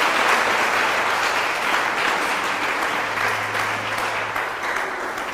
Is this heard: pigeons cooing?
no